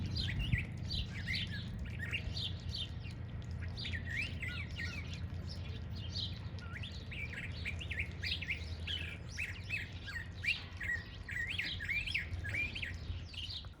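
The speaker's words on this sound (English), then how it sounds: "Yeah, that's the thrasher." A thrasher calls outdoors with a long stream of varied chirps and whistled phrases, faint and somewhat distant over a low rumbling background.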